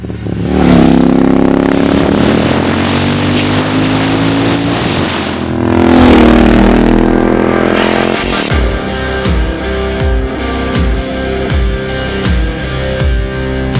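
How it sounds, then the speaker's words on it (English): A tuned Royal Enfield Super Meteor 650 with a Powertronic ECU and GT Cup exhaust revs loudly up close, two long throttle sweeps rising and falling, then a burst of crackling, popping blips. "Today I'll be riding this tuned Super Meteor 650 across 3 conditions"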